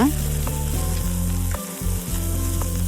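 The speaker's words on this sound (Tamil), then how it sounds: "கருவேப்பிலை இது ரெண்டையும் சேர்த்து மறுபடியும் வதக்கி விட்டுக்கலாம்" Garlic and curry leaves sauté in a pan for sundakkai kuzhambu with a continuous close sizzle over a steady low hum, briefly dipping once as the pan is stirred.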